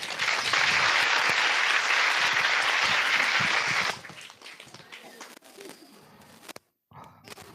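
Sunday school children clap together in a dense, steady burst for almost four seconds, then it cuts off sharply, leaving faint scattered room noise with a few soft distant taps.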